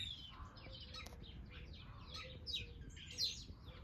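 Birds singing in a small woodland garden, several faint chirps and short song phrases overlapping at a distance against a low background rumble.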